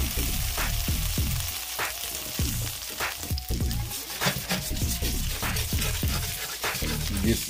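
French toast sizzles in butter in a hot pan, a loud, continuous crackling fry with rapid popping spatters throughout.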